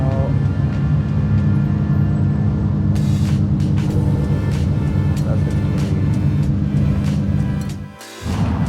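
An Audi rolls out at a night car meet at Daikoku PA in Japan, its steady low engine rumble loud and close, with a brief dip near the end.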